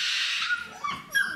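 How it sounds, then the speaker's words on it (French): Eighteen-day-old puppies whimper in short, high, thin whines that rise and fall. The whimpers are faint and close, with a brief gap between calls. "En fait, c'est la fête entre le perroquet et les chiots."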